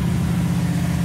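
An old car called Bonnie idles steadily with a low, even engine rumble, close and continuous through a short stretch.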